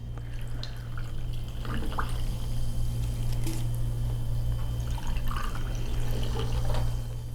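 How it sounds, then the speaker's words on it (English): Sparkling water pours over ice into glasses for simple mocktails, a steady fizzing, splashing stream with small drips and crackles running continuously under a constant low hum. "we will add some sparkling water to the top of each one"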